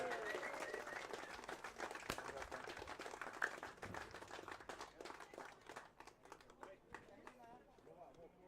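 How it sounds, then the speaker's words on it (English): Audience at the Oslo Open race event applauding the Norwegian winner, a quiet, dense patter of many hands, with talk over it, gradually thinning out. "Give them all a last round of applause, everybody."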